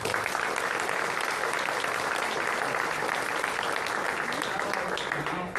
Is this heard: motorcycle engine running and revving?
no